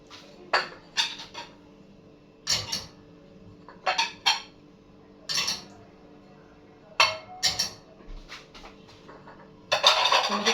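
China plates and dishes clink and clatter in short separate bursts, about a dozen over ten seconds, close and fairly crisp against a quiet room, while a china cabinet is being cleaned.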